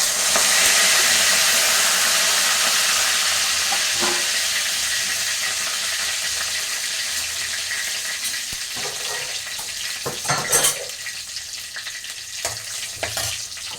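Cinnamon, cloves, bay leaf and curry leaves hit hot oil for a chicken kuzhambu, bursting into a loud, bright sizzle that slowly dies down before a few clattering stirs.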